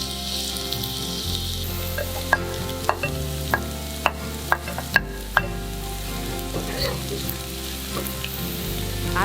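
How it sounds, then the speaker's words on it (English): Shallots, garlic and ginger stir-fried in sesame oil, giving a continuous close sizzle with a series of sharp spatula taps and scrapes against the pan in a steady rhythm. "stir fry shallots, garlic,"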